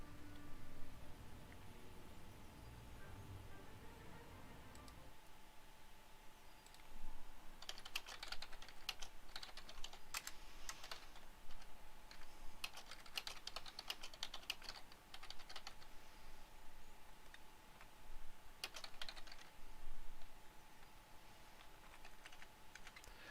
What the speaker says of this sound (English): Right, okay, just typing that Discord message.